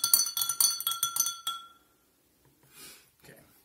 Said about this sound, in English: You can actually hear the notes as I'm stirring it.